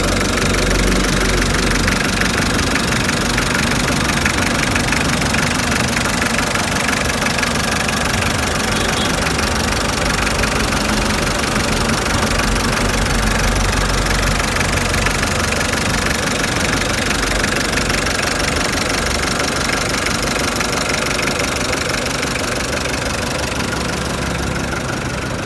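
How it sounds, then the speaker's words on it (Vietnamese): An Isuzu engine in a TCM 3-ton forklift runs steadily for the whole stretch, a close, loud, knocking diesel idle with an even rumble and no talk. "Và đây là động cơ của em đó, động cơ Isuzu."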